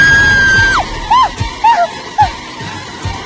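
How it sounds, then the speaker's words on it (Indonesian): A woman screams in short high, wavering bursts, first a long held shriek, then several brief cries separated by pauses, loud and close amid thuds and background noise. "Kenapa kamu teriak?"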